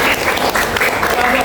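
A classroom breaks into a brief burst of dense applause, many hands clapping together at close range in a steady wash of sound.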